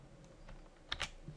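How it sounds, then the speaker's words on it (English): Typing on a computer keyboard, a few quiet scattered keystrokes with a couple of sharper clicks near the middle, faint against low room noise. "I will create the actual time series by typing the function"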